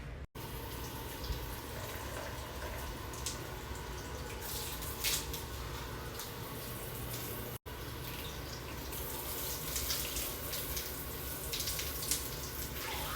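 A shower head sprays water to rinse down a shower stall, a steady close hiss of running, splashing water that continues without a break throughout.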